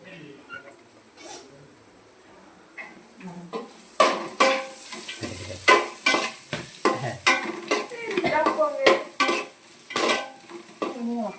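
Onions fry in a pan at a village kitchen, a soft sizzle beneath repeated scraping and clinking as a utensil stirs against the metal, growing busier as the stirring continues.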